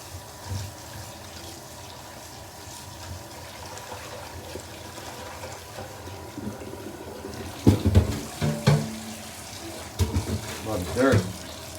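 Tap water running in a kitchen sink to rinse cilantro, a steady hiss that grows splashier and more broken as the leaves go under the stream, with a voice talking over it.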